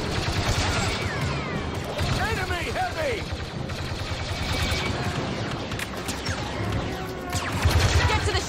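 Blaster gunfire in Star Wars Battlefront 2 during the Battle for Jakku: continuous dense volleys of laser shots, whooshing and crashing effects, a busy, loud battle soundscape with voices shouting amid the firing.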